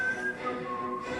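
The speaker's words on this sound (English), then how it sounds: "Valandor kind of goes on, and you guys hear a whistling." A brief, clear whistling tone, a single sustained note that bends slightly lower, played during a tabletop role-playing game session.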